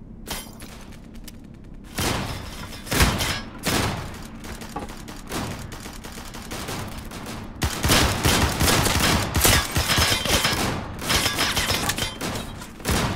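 Gunfire in the battle-royale shooter Islands of Nyne comes as loud, sustained volleys of rapid shots with booming thumps, and grows denser and heavier in the later seconds.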